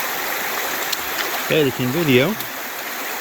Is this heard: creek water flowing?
yes